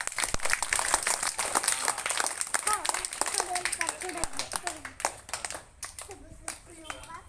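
Schoolchildren at Zilla Parishad primary school Jhalakwadi clap together in a quick, sharp rhythm close by, the claps growing looser and more scattered as children's voices chatter over them.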